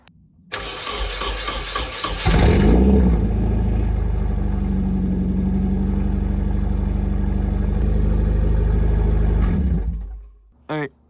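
A Nissan 240SX fitted with new ISR headers cranks over and fires up, settling into a loud, steady idle with a raspy exhaust note before shutting off near the end.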